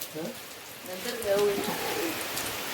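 Heavy monsoon rain falls steadily on surfaces in the Konkan during a cricket game, a continuous broadband wash with a faint voice briefly underneath.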